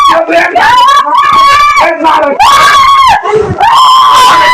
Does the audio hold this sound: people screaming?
yes